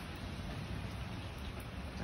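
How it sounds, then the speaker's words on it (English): Heavy, soaking rain falls straight down in big fat drops, producing a steady, even, moderately quiet hiss with no talking. "It's just a good soaking rain. Coming straight down in big fat drops."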